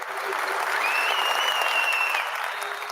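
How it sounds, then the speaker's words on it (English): Applause from a crowd during a football discussion show, steady dense clapping throughout with a faint tonal whistle above it, no talk. "let's clap hands for that journalist."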